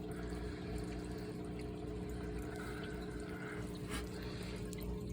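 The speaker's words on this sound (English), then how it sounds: "these plants are hanging on here just to die down that sound of all that splashing going on" Water splashing and trickling steadily in an indoor turtle tub, a continuous low wash with a pump-like hum underneath, faint and unbroken throughout.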